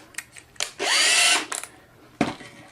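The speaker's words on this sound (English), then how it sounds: "Now, I'm going to use a 1/8 inch drill bit" Power drill fitted with a 1/8 inch bit bores a hole: short trigger bursts, then a sustained high whine for about three-quarters of a second, followed by a final brief burst, close and alone.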